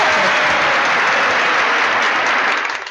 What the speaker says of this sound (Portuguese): Não achei legal essas palmas.